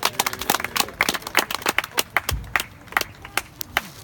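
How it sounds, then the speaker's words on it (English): At a small Kwanzaa community gathering, a handful of people clap for Hendrick: sharp, close, irregular hand claps that patter unevenly and thin out toward the end. "Give Hendrick a round of applause"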